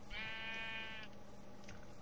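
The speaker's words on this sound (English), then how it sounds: "Sheep, man. Oh yeah, like, sheep?" One sheep in the video game Minecraft gives a single short, wavering bleat over a low, steady background hum, faint and brief.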